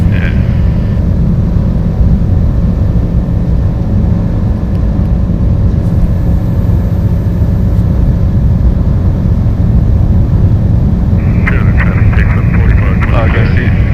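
A Sling 2 light aircraft's engine drones steadily from inside the cockpit in flight, a loud continuous hum with a constant tone, while voices talk over it and radio chatter cuts in near the end.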